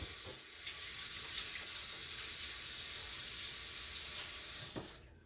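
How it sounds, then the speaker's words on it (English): A kitchen tap runs steadily as hands are washed with soap under it, a close hissing water stream that cuts off near the end. "we're going to put some soap and water on our hands right quick"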